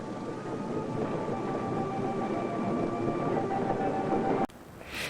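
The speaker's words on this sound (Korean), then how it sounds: "이윽고 기차는 떠난다." A steam train departs a wartime refugee station in winter, heard as a steady, loud rumble with a faint hum that cuts off abruptly near the end.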